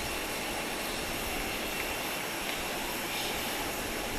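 A 1976 de Havilland Canada DHC-6-300 Twin Otter at Grand Cayman airport sends out a steady, loud, broadband engine roar that holds evenly throughout, with no talking.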